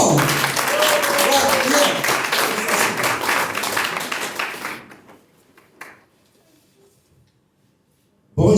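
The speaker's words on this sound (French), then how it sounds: "On acclame fort." An audience applauds loudly with dense, continuous clapping for several seconds. The applause fades out to near silence, and a sudden sound returns at the very end.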